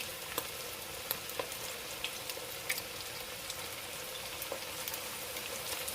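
Homemade chicken strips fry in shallow oil in a pan, giving a steady close crackle dotted with sharper pops, with no talking.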